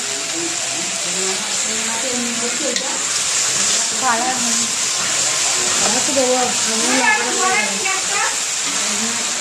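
Fish fries in hot oil at a festive home gathering with a busy cooking area. A steady, loud sizzle runs throughout, with people and children talking over it.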